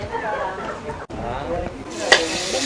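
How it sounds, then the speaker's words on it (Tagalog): Garlic sautéing in a pan for afritada, a steady close sizzle with a brief stirring scrape, while someone talks over the cooking. "Gisaw naton para mag golden brown ang aton nga ahos."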